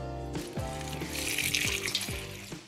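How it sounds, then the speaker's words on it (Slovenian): Water is poured into a pot of vegetable peels, celeriac, onion, peppercorns and bay leaves, giving a close, splashing, gurgling fill with a few rhythmic glugs as the stream continues. "ter vse skupaj zalila z vodo."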